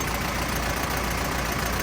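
A car engine idles roughly with a steady, dense rumble, close and continuous, with no voices.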